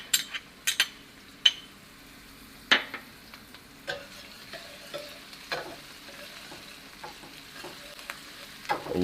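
Onions and garlic fry in about three tablespoons of vegetable oil for Jamaican curry fish. A soft sizzle runs underneath while sharp clinks of a utensil against the pot come at irregular intervals.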